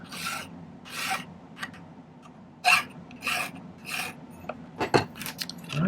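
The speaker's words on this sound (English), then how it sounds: "I'm going to start by filing the end flat." A hand file rasps across the end of 8-gauge silver half-round wire in separate bursts of rough scraping, close and fairly loud, with brief pauses between strokes and a few quiet spoken words.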